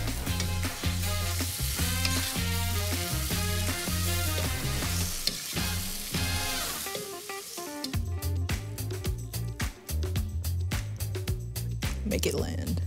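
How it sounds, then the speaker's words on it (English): Pad Thai stir-fries in a hot pan, a continuous sizzle with stirring, set under loud rhythmic background music. "Stir frying."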